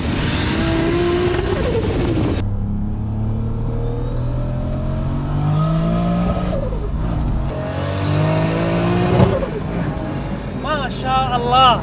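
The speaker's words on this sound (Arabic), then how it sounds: "نسمعكم صوت التيربو الأصيل" Toyota Supra with a 900 hp turbo engine, revving loudly and close with rising and falling pitch sweeps, a sudden drop after a gear change and sharp turbo hiss, while people talk over it.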